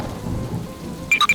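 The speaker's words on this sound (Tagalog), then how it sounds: "Bumuhos ang ulan at malakas ang kulog at kidlat." Heavy rain pours during a storm with thunder, a dense low rumble and wash of rainfall, ending in a few sharp high chirps.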